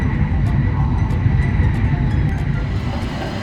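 A shinkansen bullet train running toward Toyama station makes a steady, loud rumble and hum, heard from the inside, with faint high ticks over the continuous low roar.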